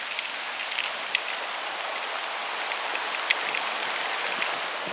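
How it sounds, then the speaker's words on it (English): Heavy pouring rain falls steadily beside a staircase at canal locks under construction work, a dense even hiss with occasional sharper drip ticks close by, with no voices. "on my way to seek refuge from the pouring rain."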